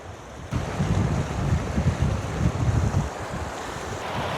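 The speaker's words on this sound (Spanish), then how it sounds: "ese es el río" A river in Tajikistan rushes in a loud, continuous broadband roar close by, with the flow and some wind buffeting filling the whole stretch without any voices.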